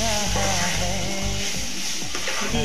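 Paneer frying in a pan with spices, a steady soft sizzle with faint stirring scrapes throughout, no talking.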